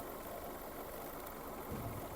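A 2005 Skoda Fabia 1.4, Edition 100 trim, idles smoothly with an even, steady engine hum and no misses, heard close and continuous for about two seconds.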